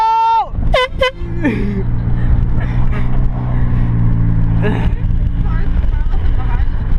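Loud horn blasts from a car on a beach road, a few sharp honks at the start, followed by a steady engine rumble and passing traffic while people talk in the car.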